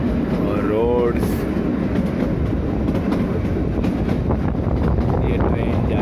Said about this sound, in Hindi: ये ट्रेन जाती हुई उड़ती हुई